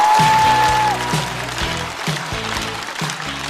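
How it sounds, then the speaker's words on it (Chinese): Audience applause at a stand-up comedy show, clapping after a performer is introduced, with music stabs playing over it and the clapping thinning toward the end. "掌声欢迎"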